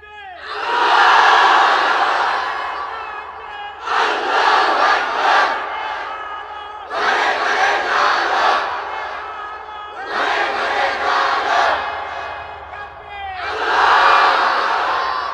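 A large gathering answers a preacher's call of Nara-e-Takbir, with loud massed shouts rising in about five long swelling waves separated by short pauses, roaring voices filling the space.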